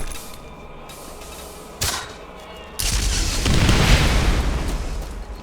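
Grenades going off in the video game Borderlands: a quiet stretch with one brief thump, then a sustained loud roaring blast wash that swells and lingers for several seconds, with no talking.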